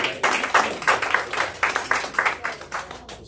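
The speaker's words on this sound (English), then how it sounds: "Y'all give them a round of applause" Audience members clap in congratulation at a Super Saturday gathering, a dozen or so distinct, fairly regular claps at moderate loudness, sounding like a small group rather than a full crowd.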